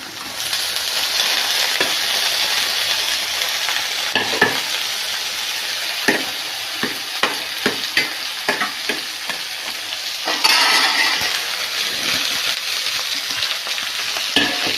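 Okra sautéing with onion, salt and turmeric in a pan makes a loud, continuous sizzle, broken by repeated close scrapes and taps of a spoon stirring, with no talking.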